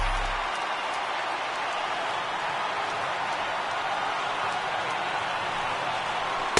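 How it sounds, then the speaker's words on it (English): A thin stadium crowd cheers and roars steadily in the MLB The Show 18 baseball video game, Phillies at Marlins, a broad constant wash of noise with no clear peaks and no talk. "Not the largest crowd ever, but they're on their feet."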